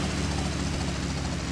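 A helicopter in GTA Vice City Definitive Edition on PC gives off a steady, loud rotor and engine drone, close and unbroken, with no voices.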